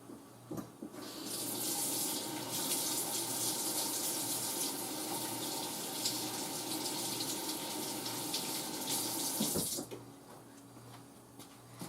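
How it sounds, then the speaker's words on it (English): Kitchen tap water runs steadily into a sink for several seconds while hands are washed, a close, even splashing hiss that starts and stops cleanly. "Let me wash my hands right quick."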